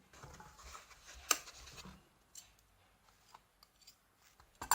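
Scissors snip through macrame thread, one crisp close cut standing out, then softer rustling and handling of the cord and another snip at the end, no speech.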